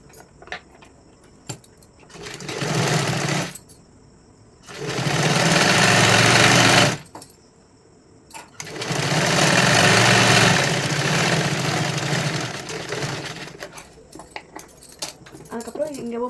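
A sewing machine stitching a 44-size katori blouse, running in three bursts of steady whirring stitching with short pauses between, close and fairly loud.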